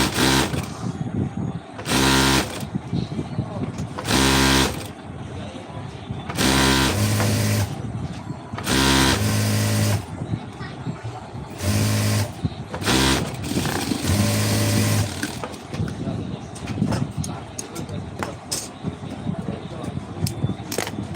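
A sewing machine stitches the bottom border of a white semi shirt in bursts of a few seconds each, with short pauses between runs and a steady motor whir under each stretch of stitching.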